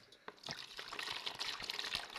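Water splashes and trickles into a container to soak underwear, with a close, uneven pouring and dripping for about two seconds.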